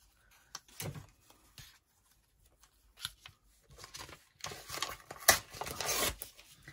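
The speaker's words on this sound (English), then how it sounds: "Let me just use my scissors and take that edge off." Scissors snip along the edge of a scrap of dark paper during collage work on a wallpaper border, giving short close cutting and rustling sounds that build into denser paper handling toward the end.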